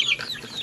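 Young ducks on a farm let out a quick run of high, chirping peeps and calls, close by and moderately loud, in a brief burst with no talking.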